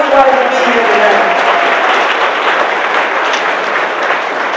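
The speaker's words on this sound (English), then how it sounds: "give Elihu a round of applause" An audience at an evening civil rights lecture gives a sustained round of applause, a dense steady wash of clapping from many hands filling the hall, loud and continuous without letting up.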